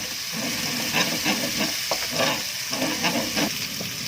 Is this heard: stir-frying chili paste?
yes